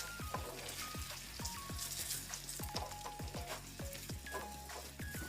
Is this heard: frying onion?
yes